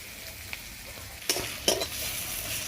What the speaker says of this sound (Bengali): আমি সেই মাছ ভাজা তেলেই আমি পেঁয়াজটা ভেজে নেব